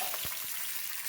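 Peanuts, green peas and chana dal frying in a pan, giving a steady, close sizzle with a couple of soft stirring knocks over about a second.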